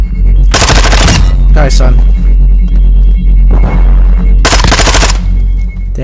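Vaznev 9K automatic gunfire in Call of Duty MW2, loud sustained bursts of rapid shots separated by short pauses over a steady game hum, with a voice briefly speaking between them.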